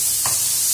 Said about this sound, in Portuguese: Vou selar ela dos dois lados.